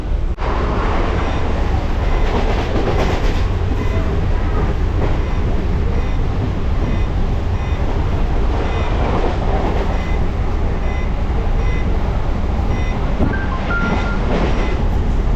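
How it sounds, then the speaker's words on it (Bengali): A fast-running local train from Howrah to Digha roars along the rails, a loud steady rumble with rattling carriages and rhythmic clickety-clack heard from inside the coach. "দুরন্ত গতিতে চলছে আমাদের এই ট্রেন"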